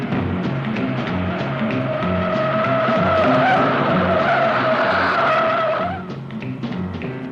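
Tires skid and squeal loudly as a car swerves hard through a sharp turn in a 1966 film car chase, the sustained screech running for about six seconds over engine roar before fading into a lower rumble.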